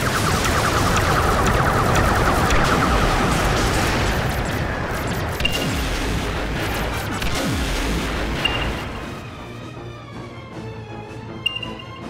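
Sustained barrage of sci-fi starship phaser blasts and rumbling explosions from a Star Trek video game, dense and loud for most of the stretch, thinning toward the end with a few sharp bursts.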